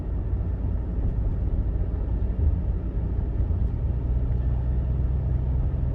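A classic Mercedes on a cross-country road trip across the Great Plains gives a steady, low engine rumble with road noise while driving along a country road, continuous and even with no talking.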